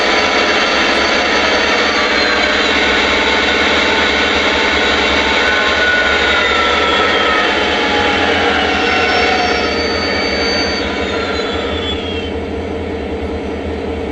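The prime mover sound of a Lionel Legacy Heritage SD70ACe model diesel locomotive winds down, a loud droning engine with whining tones that fall in pitch and ease off toward the end.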